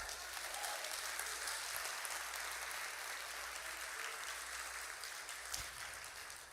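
Steady, sustained applause from a large church congregation, a dense broadband clatter of clapping holding at an even level throughout.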